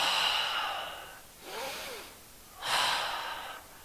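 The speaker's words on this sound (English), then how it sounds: "2 breaths here" Two slow, audible breaths are taken while holding a yoga reverse warrior pose. Each is a soft, airy inhale and exhale, heard close and alone with short pauses between.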